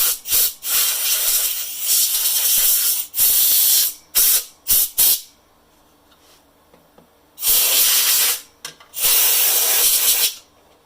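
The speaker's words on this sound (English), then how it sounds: "This compressor goes to 150 psi, but I'm only running about 80, and I'm not giving it a full blow." Compressed air blasts from an air compressor nozzle at about 80 psi during speaker repair on a 1929 Atwater Kent 55C radio, coming in several sharp hissing bursts of varying length with quiet gaps between, close and loud.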